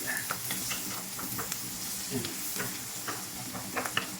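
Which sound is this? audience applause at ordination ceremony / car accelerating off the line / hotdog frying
hotdog frying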